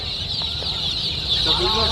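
Country chicks cluck and chirp nearby at a busy Sunday street market in Erragadda, Hyderabad, over a steady high hiss of background noise, a short burst of calls toward the end.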